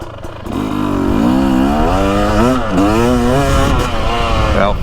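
A Husky TX300 two-stroke dirt bike rides a woods loop, its engine loud and close, revving up and down in a wavering snarl with throttle changes throughout.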